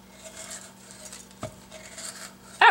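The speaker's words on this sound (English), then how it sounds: "Now I'm just going to run around and push the coconut" A spoon scrapes and pries coconut meat loose from the hard shell, soft rasping strokes close by with a sharper click near the end.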